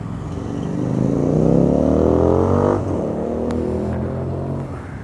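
Motorbikes passing on a road during a Sunday group ride: a loud, rising engine drone swells and sweeps past midway, then another engine hums steadily close by, with no talking.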